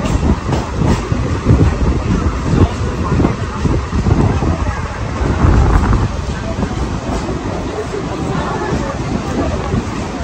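A Howrah to Digha local train running on its rails gives a steady, loud rumble with wind buffeting throughout and faint clatter from the carriages.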